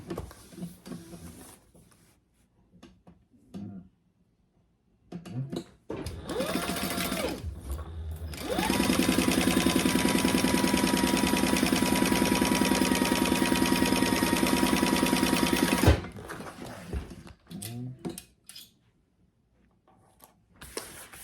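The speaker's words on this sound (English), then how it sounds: "And then I will sew those at my full seam allowance." A sewing machine stitches bag lining pieces together, with short bursts of whirring, then a long steady run of motor hum before stopping, followed by quieter handling noises.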